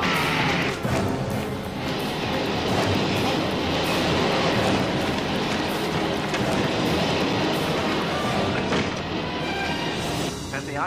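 A train rushes through a tunnel in a martial-arts action film, a loud, continuous rumbling roar with rattling wheels that holds steady for about eleven seconds, with no talk.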